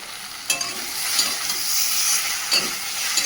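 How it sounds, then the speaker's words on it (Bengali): Fish fat with chilies fries in a pan while being stirred, giving a loud, close, continuous sizzle with sharp scraping stir strokes near the start and middle, and no speech. "মাছের তেলটা দিয়ে দিলে নাড়াচাড়া করে তেল বেরোবে"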